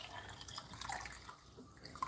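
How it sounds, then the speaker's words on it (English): Water being poured from a slim container spills onto a kitchen countertop, a faint, close trickle with small irregular drips and splashes, heard alone with no talking. "I'm spilling water all over my countertop"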